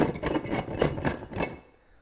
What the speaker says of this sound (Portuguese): Parece que tem metal aqui dentro, né? Mas se eu te disser que esse é o som do pau-brasil